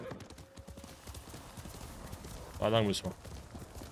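Hoofbeats of Kage, a horse in Ghost of Tsushima, run steadily through the clip with a short whinny near the end, while someone talks over them.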